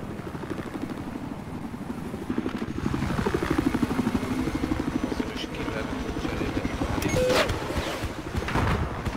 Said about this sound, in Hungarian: És megint egy helikopter.